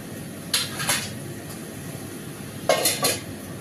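A spoon scrapes and clinks against a cooking pot while potatoes and eggplant are stirred, making two pairs of short knocks over a faint low background.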